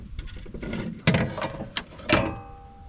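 Ratchet wrench removing strut mount nuts on a 2015 Dodge Durango, several short clicking bursts and metallic clunks in an irregular rhythm, close and fairly quiet.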